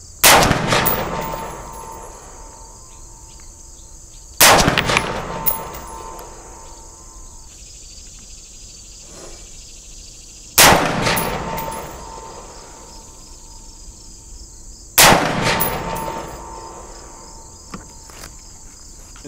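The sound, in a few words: gunshots from rifle shooting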